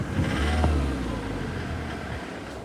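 A Ford car engine with a knocking fuel injector is revved from idle, a mid-pitched engine note swelling and easing back over a steady running hum, close and loud with no talk.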